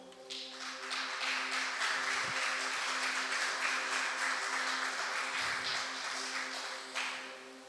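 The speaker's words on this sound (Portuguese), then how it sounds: "Aplauda o Senhor" Church congregation clapping in praise during a Portuguese-language worship service: a soft, sustained patter of many hands over a steady hum, with a couple of low thumps, fairly distant.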